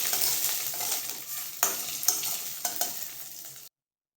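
Food fries in a pan and is stirred, with a loud continuous sizzle and several sharp scraping strokes from the spoon before the sound abruptly cuts to silence near the end.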